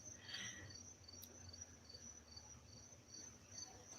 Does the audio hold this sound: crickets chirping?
yes